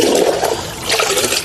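Water pours and splashes into plant containers in a garden, a short, loud, close gush with a brief dip midway before flowing again.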